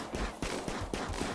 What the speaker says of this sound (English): All this hunting with machine guns.